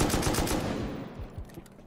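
M2 heavy machine gun firing in the survival game Rust: a loud, rapid, sustained burst of gunshots that thins out toward the end.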